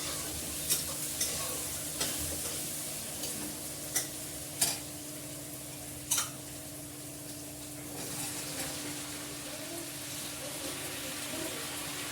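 A spice tempering (tadka) sizzles steadily in hot oil with a soft, continuous hiss, broken by a few sharp pops and light clinks.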